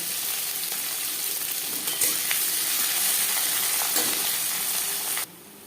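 Chopped and ground onions fry in mutton fat, giving a loud, even, close sizzle that runs unbroken with a few faint stirring scrapes, then drops off suddenly near the end.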